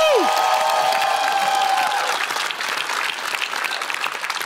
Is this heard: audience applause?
yes